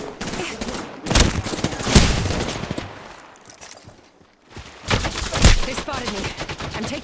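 Gunfire in the video game Apex Legends: bursts of rapid automatic shots and heavy blasts in two clusters with a quieter lull between, loud and close.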